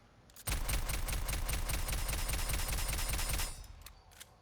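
A drum-magazine weapon in the sci-fi shooter Aliens: Fireteam Elite unleashes a sustained burst of rapid, evenly spaced shots, loud and close for about three seconds before cutting off, followed by faint mechanical clicks.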